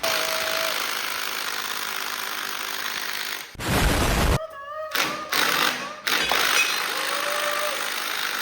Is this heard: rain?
no